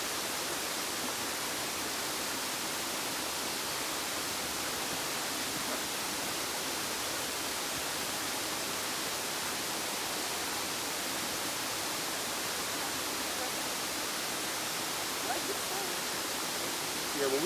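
An outdoor waterfall roars as a steady, dense hiss that fills the whole stretch evenly and without a break, loud and unchanging.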